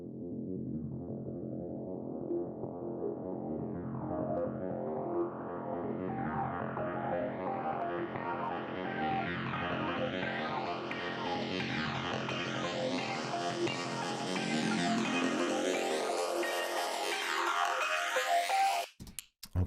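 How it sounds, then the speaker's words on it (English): Two layered synth loops from a drum and bass track cycle together, with a sweeping filter rising steadily brighter over a repeating pulse, played alone. "the track started with these two sort of synth and RP loops."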